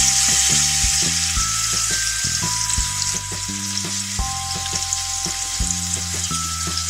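Steady, loud sizzling of ginger garlic paste frying in hot oil, continuous and close, with no voices.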